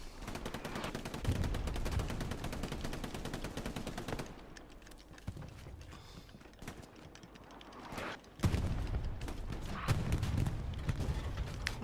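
Gunfire in the Hell Let Loose World War II shooter on the Carentan map: dense, rapid bursts of automatic fire, fairly faint, with a quieter lull in the middle before the firing resumes.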